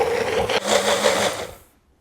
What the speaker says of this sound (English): As it is mixing in a blender